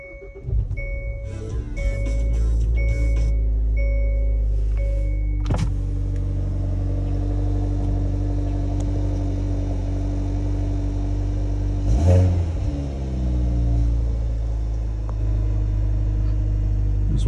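A 2019 Hyundai Veloster N with 82,000 miles cold-starts with a sharp crank and catch, settles into a deep rumbling idle, then takes two loud throttle blips that swell and fade back to idle.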